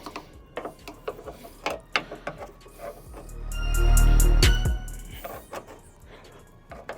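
Small metal fasteners rattle and click during hand work on a tool from a car repair kit, with a steady run of sharp mechanical ticks and a swelling whir midway, close and moderately loud, with no speech.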